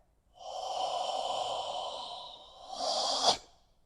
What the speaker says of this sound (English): Now, exhale.